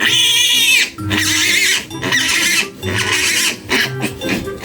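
Pigs at a farrowing pen where a sow is giving birth to piglets, with repeated loud squeals and grunts in bursts separated by short pauses, close to the microphone.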